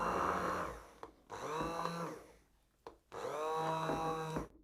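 A kitchen blender whirs through garlic mayonnaise made with oil, in three close bursts of motor whine separated by short pauses, each run's pitch shifting slightly as the mixture thickens.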